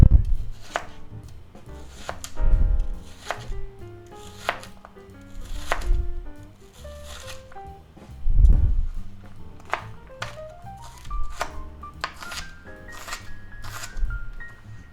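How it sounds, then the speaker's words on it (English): Knife chopping onion on a board, with repeated sharp thuds coming in clusters close by, laid over steady background music with rising tones. "Chop that up."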